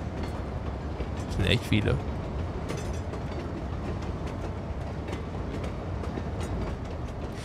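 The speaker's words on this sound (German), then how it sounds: "Okay, da ist der nächste Zug." A train passing in the city-building game Cities Skylines 2, rumbling along with clicking, ratcheting wheel sounds under a constant mechanical hum while someone speaks briefly over it.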